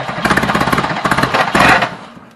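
A Reliant Robin's engine being cranked over on a first attempt at starting, a loud, close, rapid rhythmic chugging with a brief surge near the end before it fades out.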